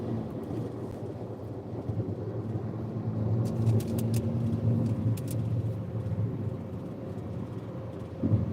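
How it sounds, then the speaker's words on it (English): A semi truck rolls past on a highway near the Kansas–Colorado line, a steady, loud low rumble of road and engine noise heard from inside a moving vehicle, swelling slightly midway with faint wind buffeting. "And right there is a semi truck."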